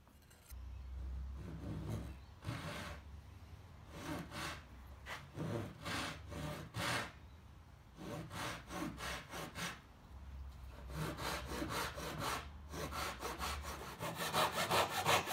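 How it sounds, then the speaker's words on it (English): A handsaw cuts through wood for a console table, giving steady back-and-forth rasping strokes in irregular bursts with short pauses, close and fairly quiet. "cut them out with a handsaw"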